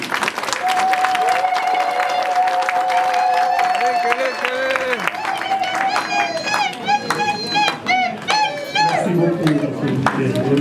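A crowd applauds the president-elect at a UDPS rally, clapping mixed with loud cheering, shouting voices and whistles.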